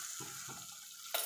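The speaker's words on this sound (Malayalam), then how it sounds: "2 തക്കാളി കൂടി നമ്മളിതിൽ ചേർത്ത് കൊടുത്തിട്ടൊന്ന് തക്കാളി ഒന്ന് നല്ല വെന്ത് കിട്ടോളം നമ്മൾക്കിതൊന്ന് വേവിച്ചെടുക്കാം." Tomatoes stirred into a sizzling pan of Kerala-style sardine curry, with a soft frying hiss, a few low stirring scrapes and a brief louder clatter at the end; quiet and close, no talking.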